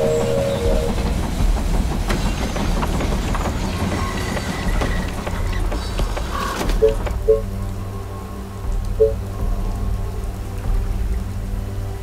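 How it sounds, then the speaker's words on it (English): A train pulls into a station in the strategy game They Are Billions, a steady rumbling rail clatter with soft clicks that settles to a lower hum near the end, with no talking. "The train has arrived at the station."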